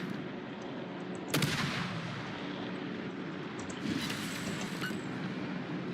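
Two heavy naval cannon blasts in the video game World of Warships, the first near 1.3 seconds and another near 4, over a constant low rumble of engine and sea noise.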